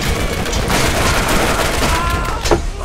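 A combat rifle fires in rapid bursts in the video game Borderlands: loud, dense, continuous gunfire with booming impacts that fill the moment.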